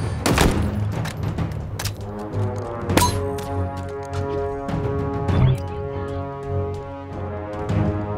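Rapid gunfire rattles in Halo Infinite, continuous bursts of shots and heavy booms layered over a steady game soundtrack, loud and dense throughout with no speech.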